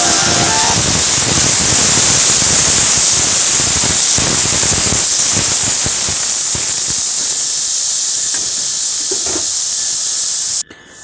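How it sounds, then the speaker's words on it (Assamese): Meat for Arunachal akhuni sizzles in a pan without oil, giving a loud, steady hiss with crackling. The hiss runs continuously, close up, then cuts off abruptly at the end. "মাংসখিনি অকণমান মানে তেল নিদিয়াকৈ মানে ভাজি লওঁ"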